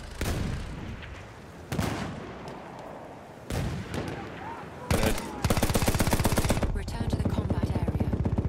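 Field guns in a combat video game fire from behind in a loud, rapid barrage: several heavy bursts give way to a dense, steady rattle of repeated shots.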